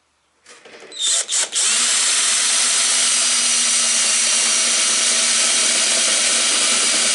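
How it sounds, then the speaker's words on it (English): A cordless drill with a weak, nearly flat battery spins up after a couple of brief starts, then runs loud and continuous, whining and grinding as it bores slowly through old pine close by. "drill through until the pilot portion of the bit gets through"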